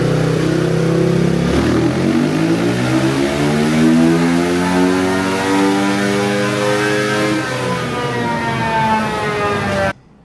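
A KTM 350 EXC-F dirt bike with a high-flow intake revs hard, its engine pitch climbing and wavering in a loud, sustained wail close by before cutting off abruptly.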